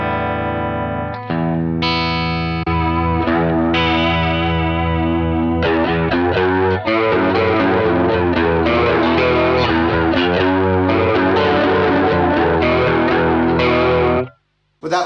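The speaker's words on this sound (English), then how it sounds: "We've just added a chorus." Distorted electric guitar riffing with a shimmering chorus effect from a Hotone Ampero Mini modeled on a Boss Super Chorus, loud and continuous strummed chords that cut off abruptly near the end.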